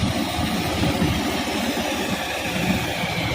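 A gear motor powers a small homemade speedboat, giving a steady droning hum with a low vibrating rumble that holds constant and close throughout.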